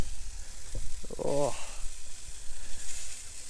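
Sausages sizzling on an outdoor charcoal grill, a steady soft hiss and crackle running throughout, with a brief spoken exclamation near the middle.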